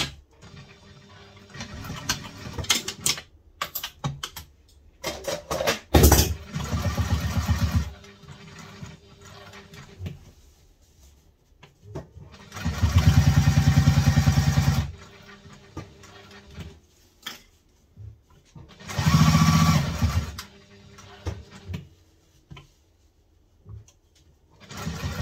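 A sewing machine stitching through clear vinyl for a wallet, running in two sustained bursts of rapid motor-driven stitching, with quieter intermittent clicks, short whirs and handling noise between them, close by.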